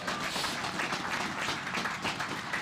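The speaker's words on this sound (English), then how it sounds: "How about a hand of applause for the chaps?" A crowd claps and applauds at a naval warship commissioning ceremony in Milwaukee, a steady wash of dense, moderately distant clapping that carries on evenly throughout without talk.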